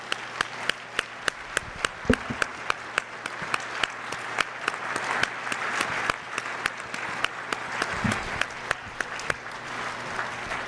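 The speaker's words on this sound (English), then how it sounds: "So can I get just a round of applause?" A school assembly audience applauds at a scholarship award ceremony, steady crowd clapping with regular sharper claps standing out, sustained for about ten seconds at moderate distance.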